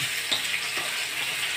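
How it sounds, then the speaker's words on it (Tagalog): Tomatoes and onions sautéing in a pan make a steady, close hiss of frying with a couple of faint stirring touches, short and without speech. "Tapos, next, yung mga kamati at saka sibuyas. Ginigisa niya."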